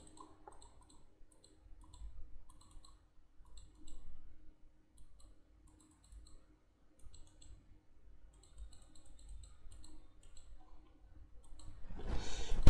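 Sparse mouse clicks on a computer while working in an MS Excel spreadsheet, faint and close in small irregular clusters over near silence, with a louder rustle at the end.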